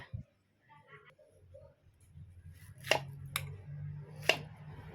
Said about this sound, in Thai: หั่นมะเขือเปาะเป็นสี่ซี่ค่ะ